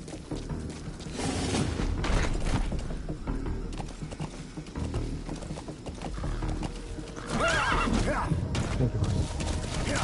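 A horse whinnies in a Metal Gear Solid game set in Afghanistan, heard over a dense rumbling game soundscape with hoof clip-clops and occasional mechanical booms, with a voice speaking.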